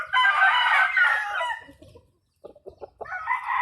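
A fighting rooster on a rural provincial gamecock farm crows loudly and close, one long drawn-out call, followed by a brief lull and then softer clucks and another crow starting.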